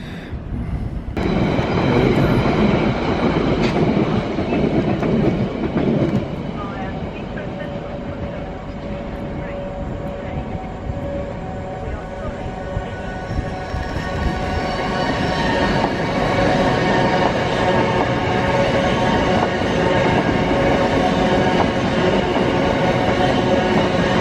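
Freight trains roll through Ealing Broadway station in London, a loud, sustained rumble of heavy wagons with wheel squeal and rhythmic clatter on the rails, continuing steadily throughout.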